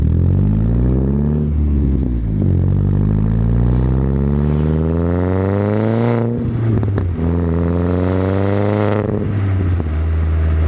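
A 320-horsepower Saab 9-5 with a turbocharged engine, unequal-length headers and a log-style manifold burbles and revs loudly and close, its pitch rising and falling through several throttle sweeps, with no talk.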